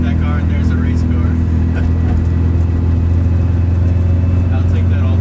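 An older car's engine idles while warming up in a garage, a loud steady low rumble that holds even throughout.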